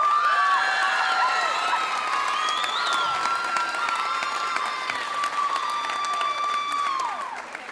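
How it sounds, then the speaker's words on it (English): Applause from a school show audience for a dance choreographer, dense and sustained clapping with some cheering and whoops, steady and loud throughout before easing at the end. "So let's give one more round of applause for her."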